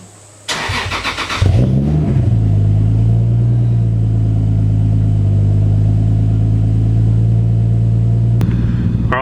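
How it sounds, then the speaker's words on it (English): A Toyota Supra engine cranks briefly, catches, and settles into a steady, loud idle rumble that continues warming up. "I'm going to start the car, I'm going to warm it up"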